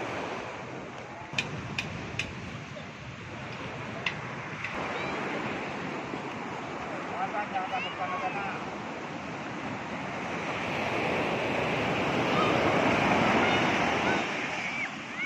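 Surf breaking at Crystal Bay Beach on Nusa Penida, a steady wash of waves with wind buffeting the microphone, swelling louder toward the end, with faint voices in the background.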